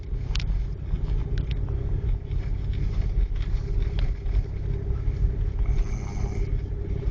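A vehicle driving slowly down the middle of a snow-covered road during a 2011 snowstorm, with a steady, close engine and tire rumble throughout and a few faint clicks and knocks.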